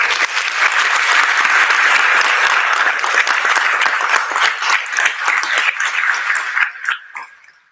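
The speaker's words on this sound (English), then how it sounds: "Let's give them all a round of applause" An audience at a high school NJROTC change of command ceremony gives a loud, dense round of applause. It holds steady for several seconds, then thins out and fades away.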